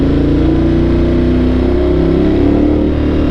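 A Ducati motorcycle engine rumbles loudly and close, holding a steady, throaty rev with slight rises in pitch and no pauses.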